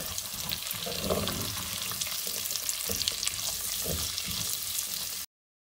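Chopped onions sizzle and crackle steadily in a pan of already-fried garlic and ginger for an aloo bhujia, a close, even frying hiss with occasional stirring scrapes, ending abruptly in silence.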